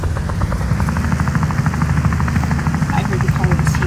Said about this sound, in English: Ooh, a helicopter.